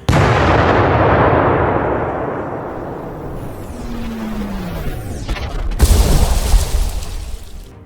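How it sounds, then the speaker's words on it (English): A Spanish warship fires its big naval guns in the Gods of War: Togo game, opening with one loud close blast that rumbles and fades away. A whistling shell passes, then a second booming report follows. "Spanish ship opens counter-battery fire."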